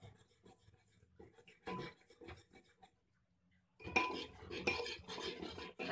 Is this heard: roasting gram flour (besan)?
yes